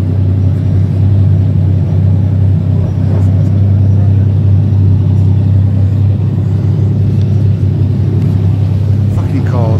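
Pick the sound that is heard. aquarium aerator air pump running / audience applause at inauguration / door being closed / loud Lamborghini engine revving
loud Lamborghini engine revving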